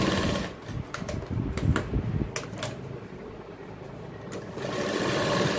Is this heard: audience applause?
no